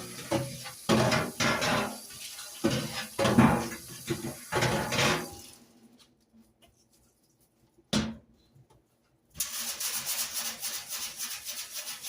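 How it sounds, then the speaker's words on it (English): An item being cleaned during a deep clean of a filthy oven: rough scrubbing and rubbing in bursts, a short pause with one knock, then a steady rush of running water rinsing it. "Let's rinse this out"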